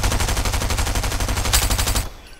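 Rapid automatic gunfire from an SMG with a reactive wrap in Fortnite, a loud steady stream of shots that stops abruptly near the end.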